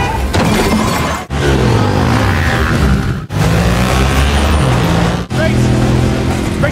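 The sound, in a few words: car crashing into someone in Mission Impossible film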